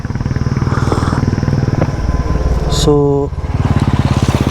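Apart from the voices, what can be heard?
Honda CB350 motorcycle engine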